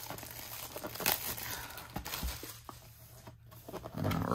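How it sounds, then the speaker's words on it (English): Paradigm Trigger card box packaging being ripped open, with close crinkling and tearing of foil and cardboard in irregular bursts, fairly quiet and with no speech. "as I go ahead and rip into the second box"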